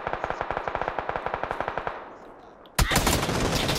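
Rapid automatic gunfire rings out in a PlayStation 4 ranked shooter match: a long, evenly spaced burst of sharp shots fades out, followed by a sudden loud rushing blast.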